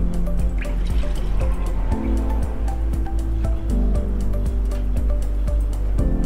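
Water or milk pours steadily into a container for rice cream, a continuous liquid rush with drips and trickles running for several seconds, close and fairly loud.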